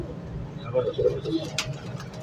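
Pigeons cooing at a busy pigeon market in Lahore, soft throaty coos in short bursts under someone talking, with background market noise throughout.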